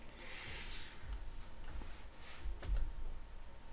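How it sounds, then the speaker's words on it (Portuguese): A few soft, quiet keystrokes and clicks on a computer keyboard, like a Ctrl D shortcut pressed during Photoshop work, sounding close by with no talking. "Vou dar um Ctrl D no teclado."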